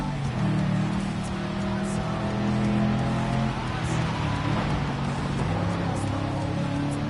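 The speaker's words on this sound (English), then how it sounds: "Sounds a bit more throaty with a bloody supercharger." A supercharged race car engine in Gran Turismo 7 on the Colorado Springs circuit drones steadily at sustained revs, a dense continuous throaty roar with faint shifting tones.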